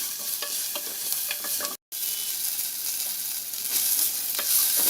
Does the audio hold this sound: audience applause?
no